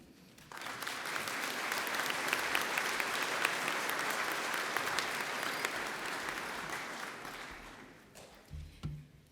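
A commencement audience at Central Lakes College in Brainerd bursts into sustained applause that swells quickly, holds as a dense wash of clapping for several seconds, and then tapers off.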